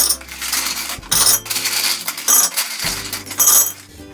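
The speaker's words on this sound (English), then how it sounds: "I like to put some rocks at the bottom of my pot." Small rocks dropped into the bottom of a plant pot while repotting a Ficus Audrey, several separate clattering, clinking handfuls landing one after another, close and fairly loud, with short pauses between drops.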